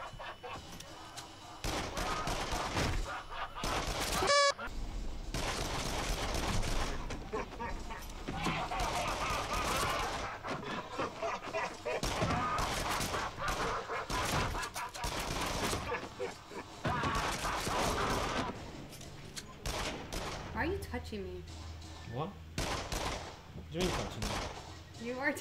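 Rapid gunfire from the VR shooter game Rush of Blood crackles in dense bursts throughout, with people talking over much of it.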